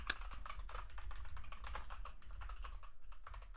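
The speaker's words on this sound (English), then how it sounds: "Hopefully my keyboard's not too loud." Close, quiet rapid typing on a computer keyboard during a coding session, a continuous patter of key clicks over a low steady hum.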